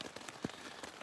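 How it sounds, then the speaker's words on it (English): Steady rain drums on tent fabric in a continuous broadband patter, close and fairly quiet, with one brief duller thud partway through and no voices. "It's raining too hard. We're gonna have to just wait it out. You can hear it coming down still"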